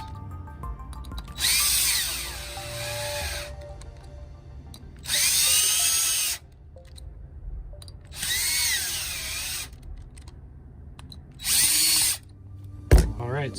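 A power drill tightens socket cap bolts on a longboard drive wheel pulley in four separate bursts of whirring, each lasting one to two seconds, separated by pauses with faint handling noise, ending with a sharp clunk.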